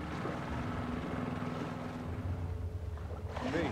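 A boat engine idles and churns steadily in the video game The Last of Us Part II, a low continuous rumble with wind and water hiss and no talking over it.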